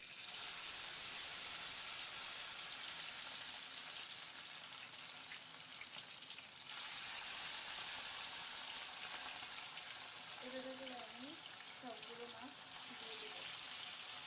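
Hilsa fish pieces fry in hot oil for pilaf, giving a steady, continuous sizzle and hiss that runs throughout at moderate level, with faint voices or clinks near the end.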